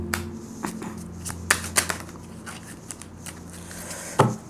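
Tarot cards being shuffled by hand, giving a few soft, scattered riffling clicks and snaps at close range, with a sharper burst of card flicks near the end and no talking.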